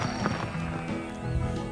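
A horse runs in the bunny race on the Hay Day game track, with game music and a soft cartoon clatter of hooves and snorts, moderately loud and steady, with no voice over it.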